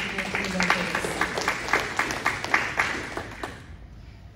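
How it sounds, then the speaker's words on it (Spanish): A church congregation claps in a rhythmic, evenly spaced beat, fairly quiet and somewhat distant, fading out toward the end. "Y démosle un aplauso al Señor."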